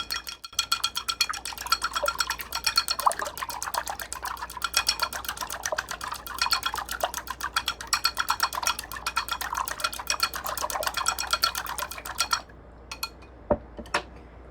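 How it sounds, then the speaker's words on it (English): Chopsticks beat eggs and tomato in a bowl, making a rapid, steady clatter of light clicks against the bowl for about twelve seconds before trailing off into a few separate taps. "Now let's mix it. I'm used to using chopsticks"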